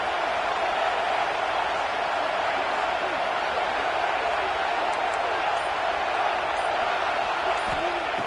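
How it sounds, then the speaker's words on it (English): A football stadium crowd roaring during a goal-line defensive stand in a college game, Georgia at Oklahoma, a dense continuous wall of cheering with no clear breaks. "The crowd really making some noise now, trying to help out this defense"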